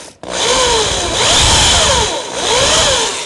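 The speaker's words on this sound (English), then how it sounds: "That was pretty nice drilling" A power drill on a drill press bores a hole in wood for artificial flowers, a loud continuous whine with rising and falling pitch as the bit bites, close and alone after a brief pause at the start.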